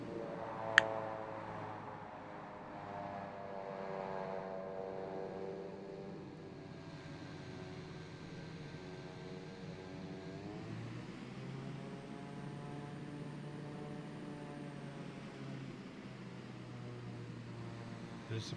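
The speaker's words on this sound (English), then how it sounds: "There's a plane which makes a noise like a long drawn out fart." Steady drone of a Spitfire's engine in a flight simulator, a low continuous hum with harmonic tones that shift in pitch midway, faint and unbroken over eighteen seconds.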